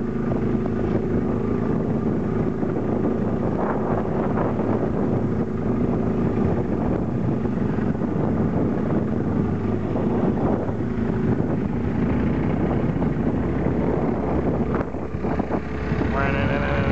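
A boat motor pushing a boat across Lake Union drones steadily and loudly for the whole stretch, mixed with heavy wind buffeting the microphone, while people talk faintly in the background.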